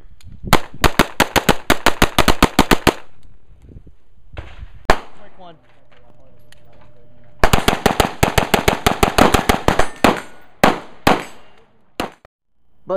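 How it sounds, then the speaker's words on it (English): A Daniel Defense DDM4 V9 rifle fires two long rapid strings of loud, close shots with a pause between them, followed by a few more separate shots at the end. "in most other cases, the rifle runs exactly like this."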